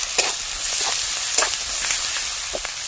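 Tomato and slit green chillies go into hot oil in a pan for an egg curry, giving a steady bright sizzle with small crackles and stirring scrapes, close by and with no talking.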